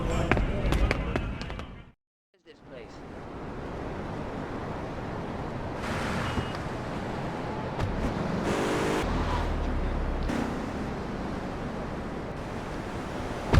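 Car driving in GTA Vice City, engine roar and road rush with a short drop to silence near two seconds, then steady cruising with swells of passing noise, loud and close.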